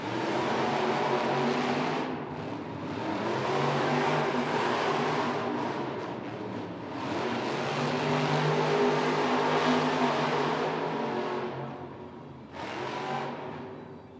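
Monster Jam monster trucks race flat out in an indoor arena in Rosemont, Illinois, their engines roaring and revving in long surging waves that dip briefly between passes.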